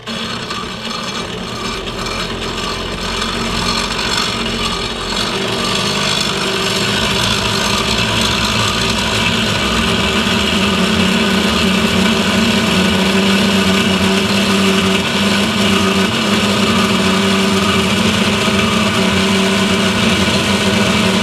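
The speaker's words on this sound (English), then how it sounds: "the blade turns slow, and it's not a super fast cut" A slow-turning saw blade cuts through metal stock in one long, steady grinding rasp that builds in the opening seconds and then holds loud and even, close up with no talking.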